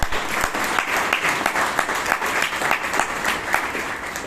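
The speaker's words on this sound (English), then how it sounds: "Let's hear a round of applause." A round of applause at a Toastmasters club meeting in Bangalore, with many hands clapping in a dense, steady patter that stays loud and even throughout, with no voices over it.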